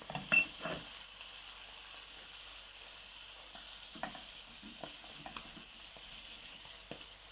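Sliced courgette sizzles and crackles steadily in a hot pan, with occasional soft scrapes and taps as the pieces are stirred and moved around; fairly quiet and continuous, with no talking.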